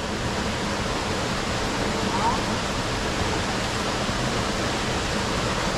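A cold river flows in a constant broadband rush, steady and fairly close, with no breaks and no voices.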